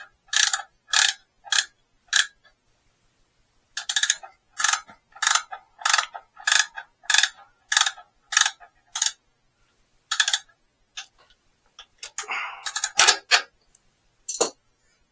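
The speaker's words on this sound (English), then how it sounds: "17mm ratchet ring spanner" A 17mm ratchet ring spanner tightening a frame bolt on a BSA Bantam B175 motorcycle, loud close ratchet clicks in quick bursts of several strokes, pausing between runs, with a few softer metallic knocks near the end.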